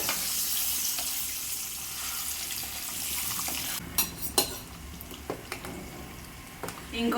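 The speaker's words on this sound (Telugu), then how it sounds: "బాగా హీట్ ఎక్కిపోయింది కదా అందుకు బాగా ఫ్రై అయిపోతున్నాయి" Food fries in hot oil as a steady, fairly loud sizzle, joined midway by several sharp clinks and scrapes of a utensil against the pan.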